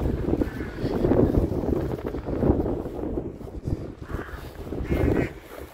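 Steady wind gusting through a garden planted with fruit trees and hollyhocks in Ireland in April, buffeting the microphone with a continuous low roar that swells and eases, with no speech.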